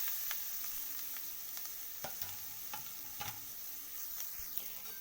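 Grated coconut frying lightly in ghee in a wok, a soft steady sizzle with occasional distinct stirring scrapes and taps, quiet and close, with no one speaking.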